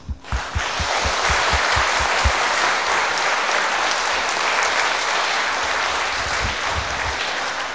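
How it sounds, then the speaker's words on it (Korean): A church congregation applauds after an evening sermon, loud dense clapping from a large crowd that rises quickly and holds steady throughout. "박수로"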